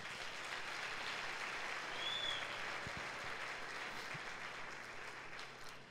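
A church congregation applauds continuously for several seconds, a dense even wash of clapping that holds steady and then tapers slightly at the end, with no voices standing out.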